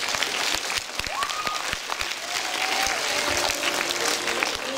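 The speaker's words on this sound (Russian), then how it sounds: "Эти аплодисменты в вашу честь." Sustained applause from an audience at a regional anniversary celebration in Krasnodar, steady dense clapping throughout at moderate loudness.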